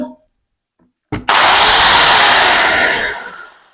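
An electric drill fitted with a knife-sharpening stone starts after a few faint ticks, then whirs and grinds loudly and steadily for about two seconds before spinning down.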